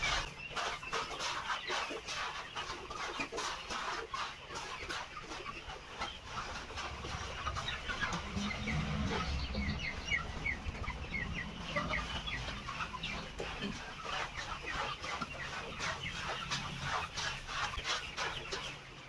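Chickens on a poultry farm cluck and chatter continuously in a dense flock, many birds overlapping at close to middle distance, with a low rumble running underneath.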